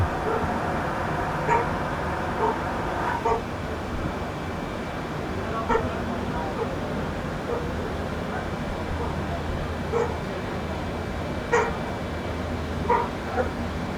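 A dog barks and yips faintly at scattered intervals, a few seconds apart, somewhere in the background beneath a steady, low wash of ambient noise.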